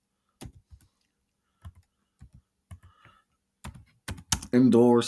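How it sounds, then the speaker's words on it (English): Short bursts of keystrokes on a computer keyboard as a project title is entered, soft irregular taps in small clusters, ending with a louder noisy burst of other sound. "I'm going to type in there and I'm going to call it, let's see, indoors"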